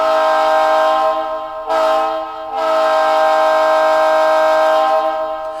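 A model train grade crossing whistle signal from a Blue Nami sound decoder: a loud, sustained multi-chime horn blast, a short break, then another long blast, clean and alone.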